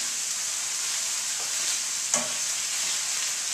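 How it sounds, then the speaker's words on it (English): Mushrooms sizzle in a pan as Greek ouzo is splashed in, a steady bright hiss with a brief sharp flare of spitting midway. "add a little bit of Greek ouzo to my mushrooms over here"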